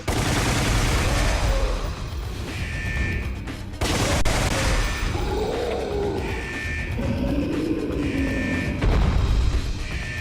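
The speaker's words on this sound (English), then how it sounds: "it's machine gun time, because if not, we're gonna get destroyed" Machine gun firing in a video game, dense rapid bursts mixed with loud roaring creature cries and growls, a continuous chaotic din without speech.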